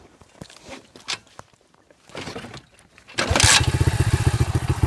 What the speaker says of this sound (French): on démarre sa dirt bike